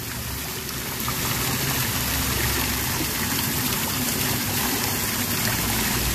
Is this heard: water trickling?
yes